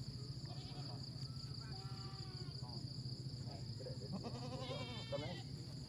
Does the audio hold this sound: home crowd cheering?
no